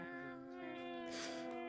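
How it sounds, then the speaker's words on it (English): Several cats meow together in a tavern inside a video game, with drawn-out tonal cries layered over one another in a short, continuous chorus. "Group meowing session in the tavern."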